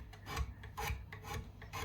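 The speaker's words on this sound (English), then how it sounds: "concentrate on running little rolls of sandpaper up and down on the frets" Small rolls of sandpaper rasp up and down along the fret ends of a Stratocaster-style electric guitar, a close, rhythmic back-and-forth scrubbing with about four strokes.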